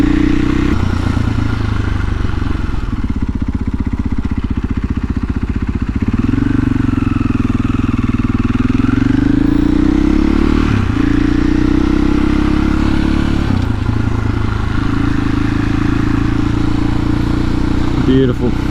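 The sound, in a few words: KTM EXC-F 500 supermoto motorcycle riding on gravel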